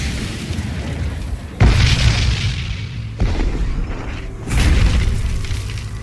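A medieval bombard cannon fires in three deep, heavy booms spaced a second or so apart, each loud and rumbling with a long resonant decay.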